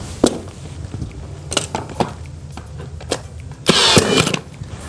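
Nail gun fastening baseboard into a wall stud through drywall near the bottom plate, giving several sharp, separate impact bangs spread apart, with one longer, louder burst near the end.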